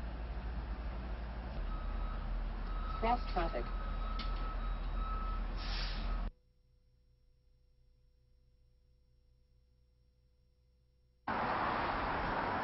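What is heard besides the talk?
collision prevention system warning beeps in vehicle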